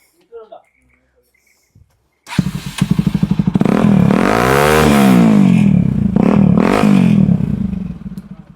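Bajaj Pulsar NS200 motorcycle fitted with an Akrapovic exhaust starts with a crank and catches, then settles into a loud, close idle before revving up and down in several swells, with a few quiet sounds before it starts.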